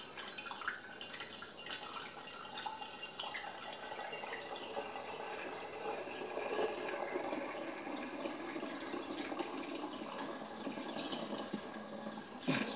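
Apple cider is poured roughly into a fermenter, a continuous splashing, gurgling stream of liquid that runs steadily for the whole stretch at moderate volume, with no talking over it.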